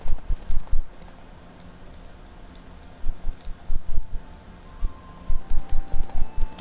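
Horse hooves in The Witcher 3 video game clip-clop in quick, even trotting bursts against steady wind noise, with a short pause between clusters, fairly close and prominent.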